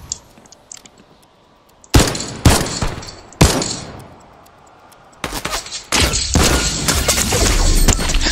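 Gunfire in an infantry-rifle-only shooter game: several loud, sharp single shots spaced a second or so apart, then a dense, sustained burst of rapid firing that fills the last few seconds.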